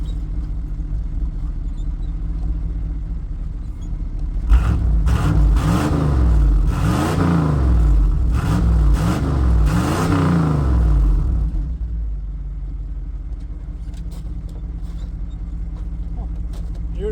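An IROC-Z Camaro engine idles with a steady rumble, then revs up loudly in several rising and falling bursts before settling back to a low idle.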